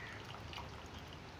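Rice is tipped into a pot of boiling water for beef biryani, with close, continuous bubbling and soft trickling and splashing sounds that continue steadily throughout.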